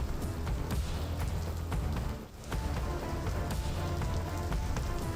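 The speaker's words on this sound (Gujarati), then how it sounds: "ભારે પવન સાથે અહીં વરસાદ વરસ્યો હતો." Heavy rain pours steadily during Cyclone Tauktae, a dense, continuous hiss of drops striking surfaces with occasional louder spatters and a brief dip in intensity midway, no voices.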